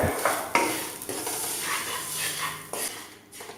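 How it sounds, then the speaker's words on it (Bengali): Grated coconut fries in a pan for semolina halwa while a spoon stirs it steadily, giving a close, continuous sizzle broken by scraping strokes against the pan. "একটু ভাজা হবে নারিকেলটা"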